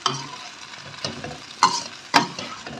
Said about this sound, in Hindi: अब मैं मसाले को इस भिंडी में शामिल करती हूँ।